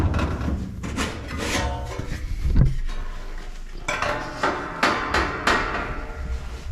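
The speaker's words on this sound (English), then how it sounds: "Well, we have to open our furnace back up." Metal clanks and knocks sound close as the access panel of a Trane furnace is pulled open, with a sharp bang near the middle and scattered rattles and scrapes around it.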